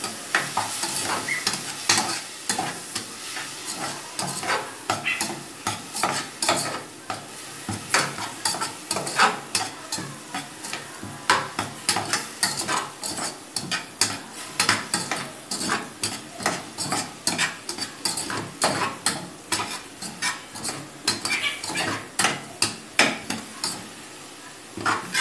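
Pieces of free-range chicken sizzle and fry in a pan with garlic while a utensil scrapes and stirs in steady rhythmic strokes, loud and close for the whole stretch, with no voices.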